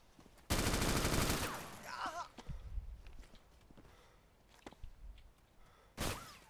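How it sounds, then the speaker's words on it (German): Gunfire shots ring out as players fire through a ceiling in the video game DayZ Epoch: a loud sustained burst at first, then scattered sharp single shots and thuds, with another strong shot near the end. "Die haben durch die Decke geschossen."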